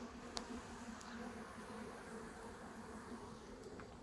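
Honey bees buzz around hives at an apiary as young swarms fly out, a continuous steady hum with occasional individual bees passing close, fairly faint overall and with no talking.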